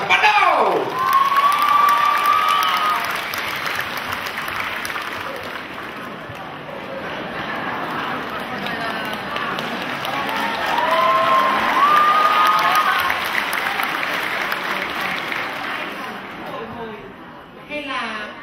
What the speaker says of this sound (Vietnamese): Một tràng pháo tay để chúng ta bắt đầu.